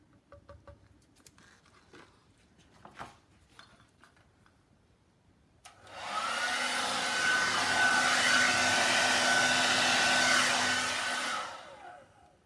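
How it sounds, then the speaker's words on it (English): After a few soft handling clicks, a hair dryer switches on and blows over a resin beach scene with a steady loud roar for about six seconds before cutting off. "I'm going to use my hair dryer to blow it over."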